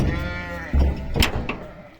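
A sheep bleats nearby with a wavering, drawn-out cry, followed by a shorter bleat and some rustling.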